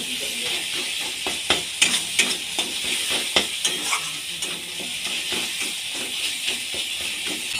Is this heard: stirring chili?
yes